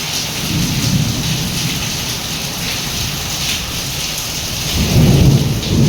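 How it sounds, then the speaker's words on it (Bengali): Heavy rain pours steadily while low thunder rumbles underneath, swelling louder near the end; no one speaks. "প্রচণ্ড জোরে বৃষ্টি হচ্ছে দেখতেই পেলে।"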